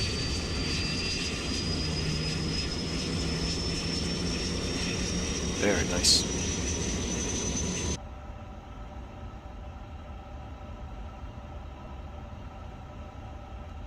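Airbus A350 jet engines spool up in Microsoft Flight Simulator, a steady whine slowly rising in pitch over a broad roar, with a person talking briefly partway through before the sound drops to a quieter hum.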